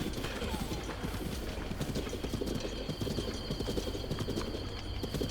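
In the video game Zelda: Breath of the Wild, rapid, steady clip-clop of horse hooves close by, with birds chirping faintly in the background and a voice talking over it.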